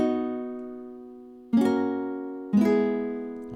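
Three sustained guitar notes or chords, each struck crisply then left ringing and slowly decaying, from a rock-style guitar part; the instrument plays alone with no voices.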